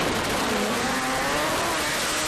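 A manual-gearbox aspirated drag racing car at Palmyra Dragway holds a loud, raspy rev on its two-step launch limiter, a dense, rough engine roar filling the short moment without talk.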